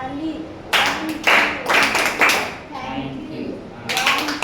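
Young children clapping their hands in a nursery classroom, several bursts of rhythmic clapping in short groups while a teacher talks.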